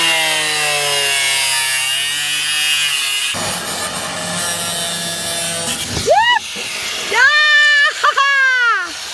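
A saw cuts through a panel to make the opening for a 12-volt air conditioner installation, a loud steady rasping drone that stops partway, followed by brief rubbing and a voice speaking nearby.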